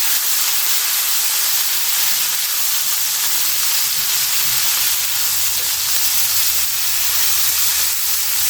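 Homemade cheeseburger patties sizzle hard after being smashed in a pan in an RV travel trailer, a loud, steady hiss running unbroken throughout with no talk.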